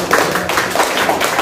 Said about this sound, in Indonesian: tepuk tangan juga dong buat teman kita